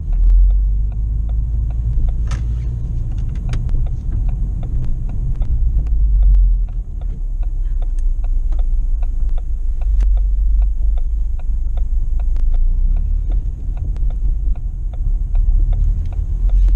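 A manual transmission car rolls along with a steady, low engine rumble and hum from inside the cabin, punctuated by faint ticking and small bumps, with no voices.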